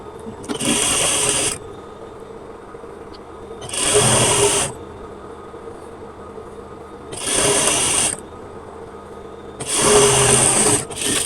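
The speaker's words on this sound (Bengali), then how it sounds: "এই পটিটার উপর দিয়ে সেলাইটা ঘুরিয়ে নিয়ে যাব" A sewing machine stitches the side slit of a kameez, running over an attached fabric strip in four distinct, fairly loud bursts of rapid whirring separated by quiet pauses, with no talking.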